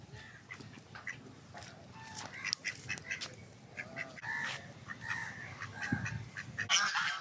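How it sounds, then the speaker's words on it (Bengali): Ducks and geese calling on a park pond at DC Park in Chattogram, with scattered honks and quacks rising at moderate distance over a steady outdoor background, growing livelier toward the end. "এখানে আছে রাজহাঁস আছে"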